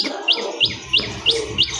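Someone whistles an imitation of a tailorbird: five sharp, high rising chirps at an even, quick pace, close up with nothing else around them.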